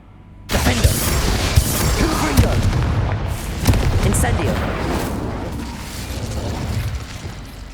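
A Confringo spell bursts in Hogwarts Legacy with a sudden loud blast, followed by a sustained booming roar and crackle that gradually eases off.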